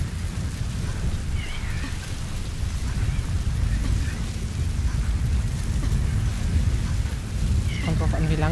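Heavy rain pours and thunder rumbles through a storm in the video game Metal Gear Solid V: The Phantom Pain, a dense, continuous downpour with deep rolling booms and brief voices breaking through.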